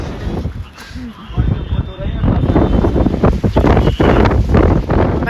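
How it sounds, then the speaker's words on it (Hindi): Strong wind buffets the microphone at a Ganges riverside ghat in Varanasi, a loud, continuous low roar that swells and gusts throughout, with people talking over it. "इस बहुत जोर से यहाँ हवा चल रही है, आप देख सकते हो।"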